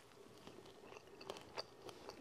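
Crunchy reheated pasta with peas and a potato-and-carrot cheese being chewed close up, a run of soft irregular crunches and bites over about two seconds, with no talk.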